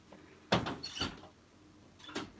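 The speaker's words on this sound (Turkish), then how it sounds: "Hadi şimdi açabilirsin kapıyı." A door opens with a few brief clunks and scrapes at close range, followed by another short handling sound, with no talk over it.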